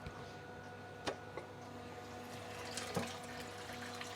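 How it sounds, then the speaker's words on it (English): Salt water siphons through a hose into a reef aquarium, a faint steady trickle and gurgle with a few small splashes and knocks, quiet and close, with no voices. "All right, that started the siphon"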